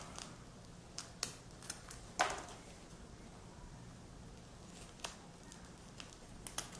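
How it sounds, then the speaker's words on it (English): Scissors snipping Velcro hook-and-loop tape into one-inch strips: a few sharp, isolated cuts spread out over quiet room noise, close to the microphone. "I'm going to go ahead and cut them into 1-inch strips"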